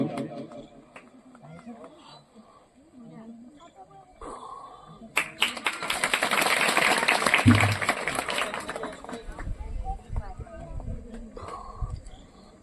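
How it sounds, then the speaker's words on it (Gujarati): Audience applause greets a guest being honoured with flowers at a cow-shelter groundbreaking ceremony in Gir Ambalgadh, swelling from the midpoint after speech and continuing loudly, mixed with voices. "આપણે સૌ આ સ્વાગત સન્માનને તાળીઓના નાદથી વધાવશું."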